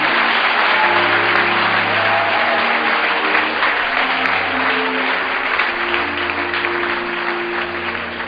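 A church congregation applauds and cheers continuously, a dense, loud wash of clapping and voices held steady throughout, with sustained tones from instruments or singing underneath.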